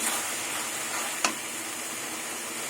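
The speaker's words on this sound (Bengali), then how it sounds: "মশলা কষাতে কষাতে তেল ছেড়ে দিয়েছি" A spice masala with cumin and coriander powder fries in oil for a Bengali dal and egg kofta dish, a steady close sizzle with one brief sharp clink of a utensil partway through.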